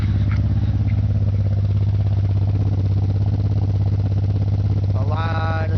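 A 1997 Audi A4 2.8 quattro with a misfire, new coil pack and wires, idles loud and close with a steady, lumpy low drone, the engine shaking audibly throughout.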